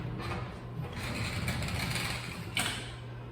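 A hand ratchet backing out screws on a Ryobi 48V mower battery pack: a steady run of quick metallic clicks from the pawl, close and moderately loud, ending in one sharper clack, with no voices.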